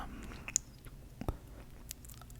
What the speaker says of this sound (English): so that you can hear the chewing, the gumminess.